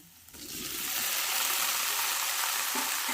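Boiled potatoes drop into spice masala frying in a pan, and a quiet start swells within a second into a loud, sustained hissing sizzle that holds steady to the end.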